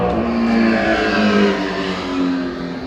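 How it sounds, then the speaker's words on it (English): Loud motor vehicle engine roaring close by with a steady, sustained drone that swells and eases slightly, like a motorcycle passing, with no voices. "that is such a distracting motorcycle"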